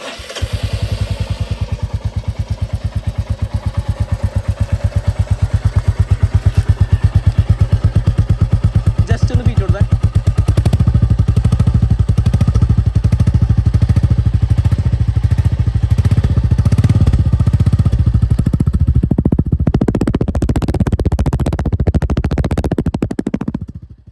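A 2024 Royal Enfield Bullet 350 with the J-series engine is started on the electric starter and runs at close range, a loud, steady thumping idle that stays even and then roughens slightly near the end.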